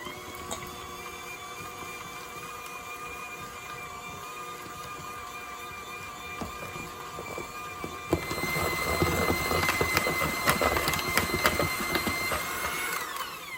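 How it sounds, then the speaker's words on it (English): An electric hand mixer whirs steadily while beating cream cheese with lemon juice, a constant close mechanical hum that turns louder and busier partway through as the beaters dig into the mixture. "I'm gonna use my hand mixer here."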